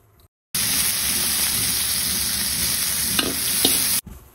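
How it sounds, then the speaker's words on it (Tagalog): Onion, garlic and ginger sautéing in a pan, a loud, steady sizzle that starts abruptly, runs for about three and a half seconds with a couple of faint clicks, then cuts off. "At dyan na rin tayo magigisa ng sibuyas, bawang at luya."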